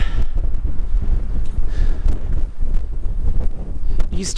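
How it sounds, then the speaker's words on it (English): Strong wind blowing across a hiking trail at the southern terminus of the Pacific Crest Trail in eastern San Diego County, buffeting the microphone with a loud, continuous rumble and gusts. "Boy, the wind is blowing."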